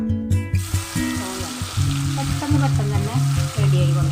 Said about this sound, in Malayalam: നമുക്ക് ഈ എണ്ണയിൽ തന്നെ നമ്മുടെ സോയ ഒന്ന് ഫ്രൈ ചെയ്ത് എടുക്കാം